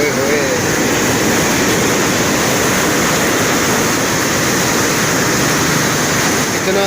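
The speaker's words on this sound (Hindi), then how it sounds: "इतना तेज़ पानी जा रहा है।" Fast-flowing water of the Chenab river at Head Marala, a loud, steady, close rushing roar that fills the whole stretch without pause.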